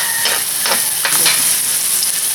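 Onions sautéing in a pan for a sweet and salty mud crab dish, a loud close sizzle throughout with several brisk stirring strokes.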